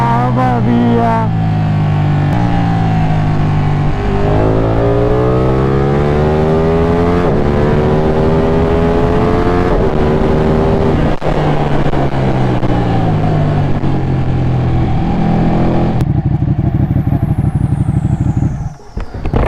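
Ducati Panigale 899 motorcycle engine recorded onboard while riding, loud and close, with repeated rising revs through the gears and drops in pitch at each shift.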